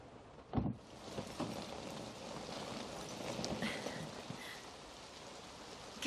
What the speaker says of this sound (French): Qu'est-ce qu'il pleut?